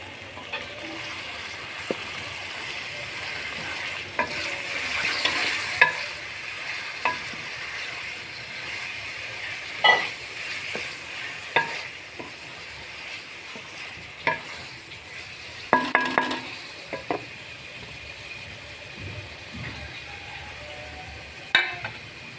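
Kasuri methi stirred into frying potatoes in a pan, a low continuous sizzle with scattered clinks and scrapes of a spoon against the pan over a long stretch.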